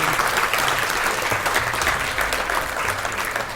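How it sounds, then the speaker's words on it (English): A studio audience at a political interview show applauds at the close, with thick, even clapping and no break across the whole stretch. "Please give a round of applause"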